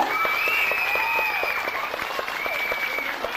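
Fans at a singer's last birthday party with his International Fans Club applaud steadily for him, a dense, continuous clapping from a crowd with a thin whistled or cheering tone running above it.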